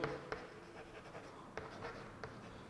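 Pen or marker writing out a maths solution by hand, close scratchy strokes with a few sharper taps as the tip meets the surface, quiet and without talking.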